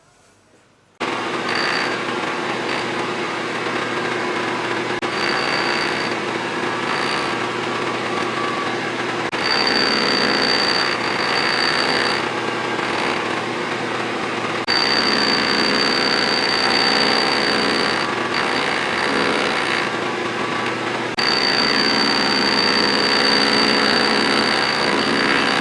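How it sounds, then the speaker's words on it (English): Lathe boring bar cutting inside an antique universal joint from a 1911 Willys Overland, a steady high-pitched machining whine with a thin ringing tone that runs continuously through several passes after a short quiet start. "I have my boring bar stuck out just enough, just the bare minimum of overhang"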